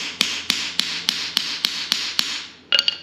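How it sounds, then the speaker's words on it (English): A hammer drives a hole punch through material resting on a wood block: eight sharp, evenly spaced metallic strikes about a third of a second apart, then a quick cluster of lighter taps at the end. "These tools, these hole punches, make life a billion times easier for knocking holes in."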